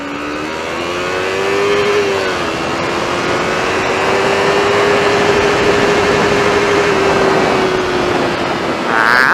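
A Yamaha MT-03 motorcycle with its exhaust tip removed holds a loud, steady engine drone that swells in pitch as it accelerates, then stays high and sustained while riding.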